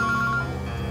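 In a TV crime-drama scene, a mobile phone gives a brief warbling ringtone that lasts under half a second, moderately loud over a low, steady background of hum and music.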